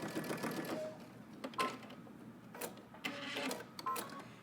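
A sewing machine stitching folded bias binding through all the fabric layers of a top: quiet, close bursts of rapid mechanical whirring, with short pauses between runs and no talking.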